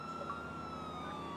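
An ambulance siren wails in GTA, a faint steady electronic tone sliding slowly downward over a low rumbling background, brief and heard alone.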